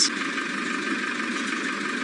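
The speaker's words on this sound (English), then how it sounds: "it's a diesel engine" Steady diesel engine of a safari vehicle in the Masai Mara, a continuous even drone with no revving, close and fairly loud, running alone without talk.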